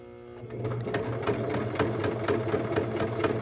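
An electric sewing machine running steadily at close range, a fast even mechanical chatter that starts after a brief pause and continues without talk.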